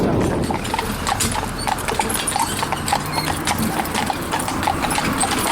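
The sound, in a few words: Friesian horse pair hooves clip-clopping while driving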